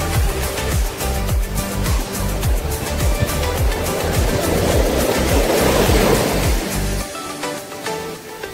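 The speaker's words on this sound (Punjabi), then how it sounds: "ਇਹ ਲਹਿਰਾਂ ਕਿਨਾਰੇ ਵੱਲ ਵੱਧਦੀਆਂ ਸਾਡੇ ਕਦਮਾਂ ਨੂੰ ਸਪਰਸ਼ ਕਰਦੀਆਂ" Sea waves washing onto a beach at Mormugao, Goa, a steady close wash of surf with rhythmic low rumbles from the breaking water, fading and quieting near the end.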